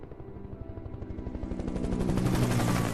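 A helicopter in the video game Alan Wake Remastered, its rotor chopping in a rapid steady rhythm that grows louder and brighter as it approaches, alone without voices.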